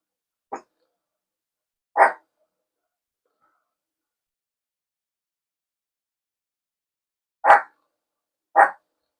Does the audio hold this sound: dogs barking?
yes